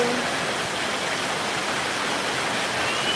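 A dense, even roar of heavy rain falls outdoors, loud and continuous from start to finish, with no talking over it.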